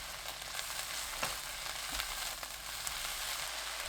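Bok choy and crab sticks stir-fry with a soft, steady sizzle and a few faint stirring knocks, fairly quiet and with no talk.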